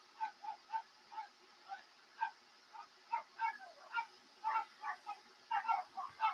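A quick, steady run of light, distant yapping barks from several dogs, some overlapping, with no talking on top.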